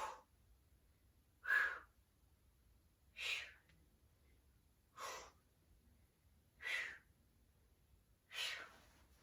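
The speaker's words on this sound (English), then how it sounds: "I feel like my breathing is really dramatic" Heavy breathing during a push-up workout: six sharp, close exhales at a steady pace of about one every two seconds, with quiet pauses between them.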